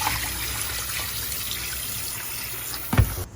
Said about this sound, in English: When you clean your fish, so no blood is in the water when you finish.